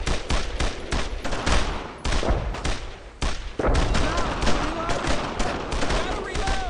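Suppressive small-arms fire in the World War II shooter Brothers in Arms: dense volleys of rifle and machine-gun shots with heavy thumps, loud and sustained, under shouted squad commands.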